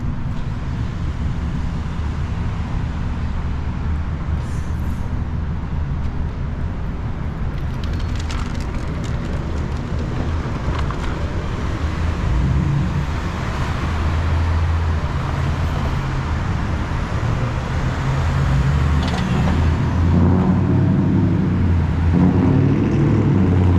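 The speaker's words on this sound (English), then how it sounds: "early afternoon city traffic. Not anything super extraordinary. There goes a city bus right there." Early afternoon traffic flows through a Louisville city street, a steady roar of passing cars with a city bus rumbling by, swelling louder and heavier toward the end.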